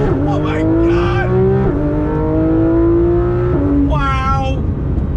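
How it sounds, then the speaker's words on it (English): A Porsche 911 GT3 RS with a naturally aspirated flat-six and PDK gearbox accelerates hard. The loud, close engine howl climbs in pitch through several quick upshifts, and a voice exclaims near the end. "That naturally aspirated flat six, some of the best music I've ever heard coming from an engine."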